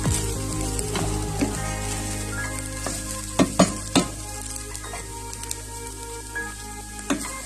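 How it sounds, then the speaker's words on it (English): Ghana meat pie filling sizzles and fries in a pan, a steady crackling hiss with occasional louder pops and stirring scrapes, close up with no talking. "So you fry for another minute."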